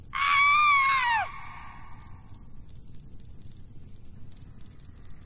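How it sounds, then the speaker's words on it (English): A single strange, wavering shriek rises and falls for about a second, loud and piercing, then fades into faint low background rumble. "a strange shriek to the north struck him like lightning"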